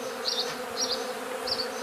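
Honeybees buzz steadily around multi-body hives on Ruta frames in Zakarpattia, a continuous drone with a few nearer bees swelling past in short passes.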